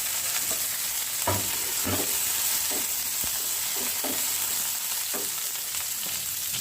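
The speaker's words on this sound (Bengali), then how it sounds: "এই তেলের মধ্যে আমি আলুগুলোকে একটু ভেজে নিচ্ছি" Potatoes frying in oil in a pan, an even sizzle with several distinct stirring clacks and scrapes spaced through it, close and steady, no voices.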